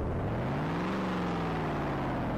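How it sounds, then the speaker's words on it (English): A car engine in the Roblox game Driving Empire revs up, a rising then falling whir held steadily for a couple of seconds, moderately quiet with no talk over it. "can we rev it?"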